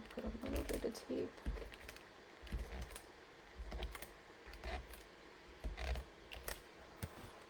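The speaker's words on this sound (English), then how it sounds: "I'm just going to put a little bit of tape." Adhesive tape pulled from a roll and pressed onto paper during Christmas card making, faint soft rips and taps at a table under quiet speech.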